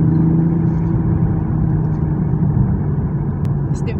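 A 2020 Toyota Supra with its factory exhaust runs loud and close, a steady low engine drone holding throughout with a brief sharp pop near the end.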